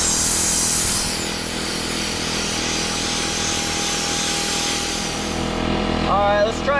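A mini sand blaster firing blast media at a rusty metal surface gives a loud, continuous airy hiss up close. Near the end the blast cuts off and a voice exclaims briefly.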